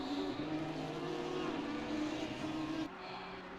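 A Honda GT3 race car engine in Assetto Corsa Competizione drones steadily at high revs at Monza, a loud sustained buzzing tone that drops abruptly as the throttle lifts near the end.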